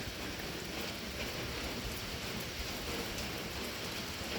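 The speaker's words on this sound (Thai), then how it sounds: "ฝนตกตั้งแต่เมื่อวานนี่พี่น้อง" Steady rain falls outdoors on a rural Thai morning, a dense, even hiss of drops on surfaces, loud and continuous with no voices.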